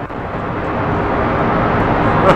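A rocket engine in Kerbal Space Program roars at full power, a loud, broad, steady rushing rumble building slightly over a couple of seconds, heard alone.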